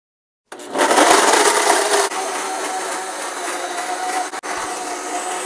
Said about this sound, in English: We pour the mango into the blender and blend it.